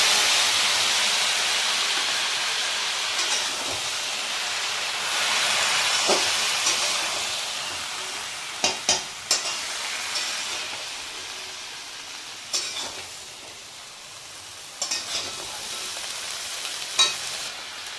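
Mustard and poppy seed paste sizzles steadily in a hot pan for a dudh shukto, a close, continuous frying hiss broken by a few sharp clinks and stirring knocks, with no voices.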